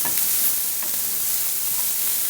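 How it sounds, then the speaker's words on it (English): Garlic stirred into chopped bacon frying in a pot for seafood chowder: a steady, close sizzle of hot fat with soft stirring scrapes running throughout, no voices. "I'm going to add some garlic. Okay, and I'm going to mix that in."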